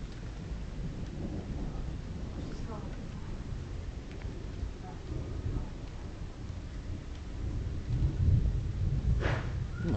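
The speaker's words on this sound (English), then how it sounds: "That's a long rumble of thunder." A long, low rumble of thunder during a thunderstorm rolls on steadily beneath rain noise, swelling louder toward the end, with faint voices in the background.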